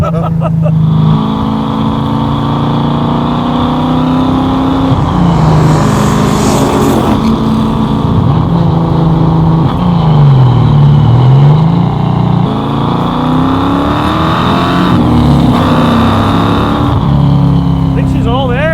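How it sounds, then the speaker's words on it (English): A car engine drives and revs under a voice, the pitch of its tonal drone rising and falling with throttle, set during a build of a custom show car in Los Angeles. "this car's so cool"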